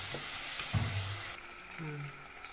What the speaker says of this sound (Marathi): आता कोथिंबीर टाकते, टोमॅटो टाकते, आणि पुन्हा एकदा चांगलं असं व्यवस्थित तेल सुटेपर्यंत परतून घेते.